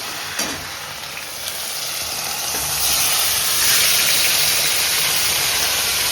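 Chicken marinated in yogurt with ginger garlic paste sizzles and fries in a pan, a steady loud crackling hiss that builds slightly as the meat goes in.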